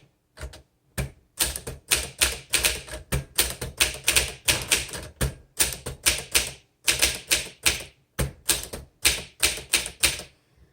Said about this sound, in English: Now I'm going to enter into or move into an actual typing demonstration of this typewriter.